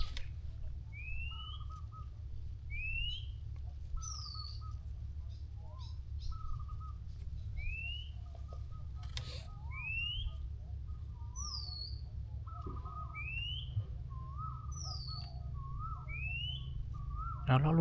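Repeated soft whistled calls of a spotted dove, several phrases at a steady pace, fairly near, over a low background rumble; no talking.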